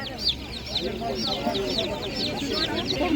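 Domestic chicks cheep in rapid high repeated chirps at a busy outdoor animal market, with other fowl and crowd voices mixed in beneath the steady chatter.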